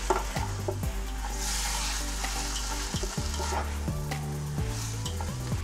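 Mushrooms and onion frying in a pan for beef stroganoff, a constant sizzle under scraping stirring strokes and a few scattered knocks, heard without any voice.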